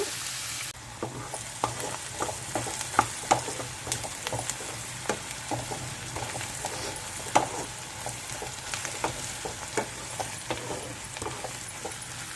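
Onions frying in a pan for a cucumber and dried prawn curry, a steady sizzle with frequent sharp crackles and pops, close and continuous, no voices.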